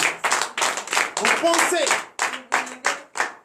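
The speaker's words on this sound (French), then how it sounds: "Donnez l'acclamation à notre Seigneur Jésus" At a night deliverance service in Comè, Benin, a congregation claps in bursts of rhythmic handclaps, roughly ten sharp clusters with brief gaps, while voices rise and call out among them.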